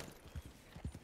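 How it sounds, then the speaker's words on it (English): Horse hooves clip-clop in Red Dead Redemption 2, a few soft, low thuds at an uneven gait, faint and close. "Get on the horse."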